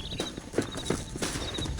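Horse hooves clip-clop at a steady walking pace in the Red Dead Redemption video game, a few heavier footfalls standing out against a continuous ambient background.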